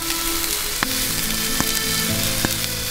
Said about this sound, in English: Grab some of that water and let's steam it up and let's melt that cheese.